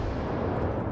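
A grenade blast in the video game S.T.A.L.K.E.R. 2, heard as a loud, dense roaring rumble that fills the whole second without a break or any voices.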